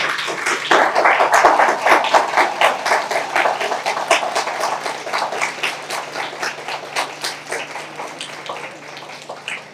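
Students in a seminar hall clapping at the close of a career session, a loud, dense burst of many hands that starts strong and slowly thins out, with individual claps growing more distinct toward the end.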